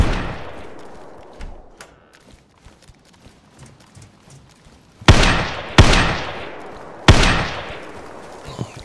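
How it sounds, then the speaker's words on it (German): Gunfire in the survival video game DayZ: three loud, sharp shots about a second apart, each with a long decaying echo, following a quieter stretch of faint ambient noise and scattered small sounds. "Nalli schießt rum"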